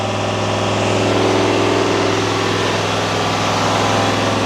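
Duramax L5P diesel engine held at raised RPM during a forced DPF regeneration, a loud, close, steady rumbling drone with constant low harmonics and no talk.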